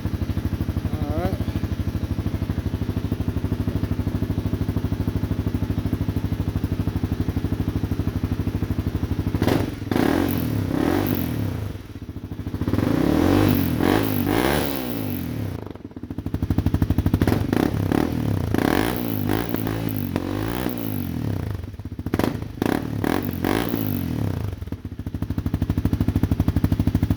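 Honda CRF250L dirt bike fitted with an FMF Q4 exhaust, idling steadily and then blipped through repeated loud, close revs with sharp throttle rises and drops.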